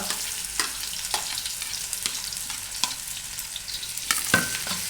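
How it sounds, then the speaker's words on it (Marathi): Cumin and onion frying in oil in a black pan, a steady close sizzle broken by several sharp scraping and tapping strokes of a spatula, with no talking. "जिरे आणि कांदा तेलामध्ये चांगले खरपूस परतून घ्या"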